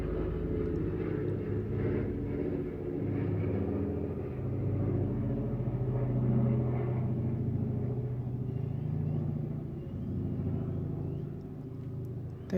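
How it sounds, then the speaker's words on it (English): An airplane flies overhead outside, heard as a steady, broad low rumble that holds for the whole stretch with slight swells and no talking. "You can hear the airplane outside."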